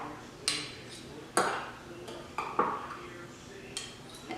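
Applesauce is spooned into a bowl with several light clinks of a spoon against the dish, spaced out at intervals against a quiet kitchen background.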